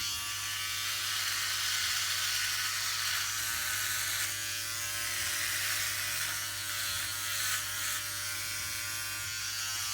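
A Philips OneBlade electric razor shaving with no guard attached, a continuous close buzzing hum with a bright, gritty cutting rasp that holds steady throughout, with no talking.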